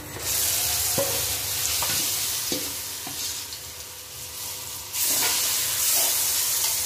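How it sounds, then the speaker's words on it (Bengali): Steady frying sizzle with a thick chana dal lentil paste being stirred in oil in a pan, repeated scraping strokes of a spatula, loud and close, no voices. "ভালো করে ভাজা হয়ে গেছে, এখন এই পেস্ট করা ডালটা এর মধ্যে দিয়ে দেবো"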